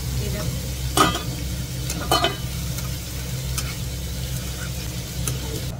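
Spices for aloo dum sauté in a pan with salt, sizzling continuously over a low background hum while a spoon stirs and scrapes a few times, close and fairly loud.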